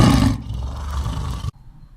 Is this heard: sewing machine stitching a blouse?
no